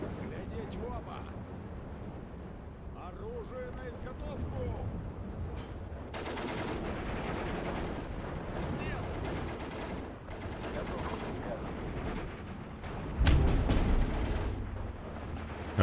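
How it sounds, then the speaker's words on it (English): Steel Division 2 battle with 150mm artillery firing directly, rumbling booms and bursts of gunfire rolling through a dense combat din, a heavier low blast near the end, with a voice talking over parts of it. "the 150mm artillery just one-shot my squad there by direct firing"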